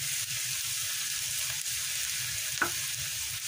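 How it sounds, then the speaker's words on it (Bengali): Bitter gourd and potato fry in a pan with a steady, close hiss, and a brief utensil scrape is heard near the end. "এই যে আলু দিয়ে করলা ভাজি করলাম"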